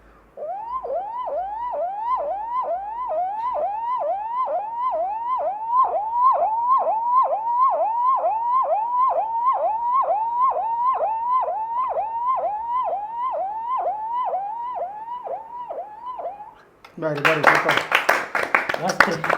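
A human voice imitates a police car siren with rapid, regular yelping whoops repeated steadily for about sixteen seconds, loud and close, then breaking into a burst of clapping and cheering.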